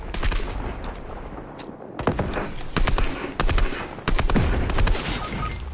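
Rapid automatic gunfire from a shooting video game rattles in repeated bursts, with short gaps between them and a dense crackle throughout.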